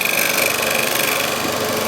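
A carbide-tipped tool scrapes wood from a recycled fencepost on a spinning lathe, a loud, rough, continuous grinding rasp with a rapid chattering pulse, close up.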